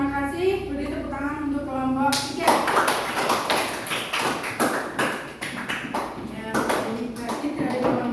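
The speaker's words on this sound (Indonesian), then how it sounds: "Beri tepuk tangan untuk kelompok 3." Classroom clapping from a group of children, a dense patter of hand claps that starts after a couple of seconds of voices and continues steadily to the end.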